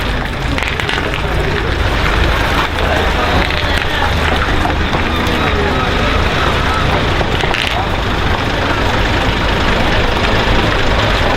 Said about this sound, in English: a convoy of Doolin's heavy haulage vehicles makes an impressive journey down the Great Northern Highway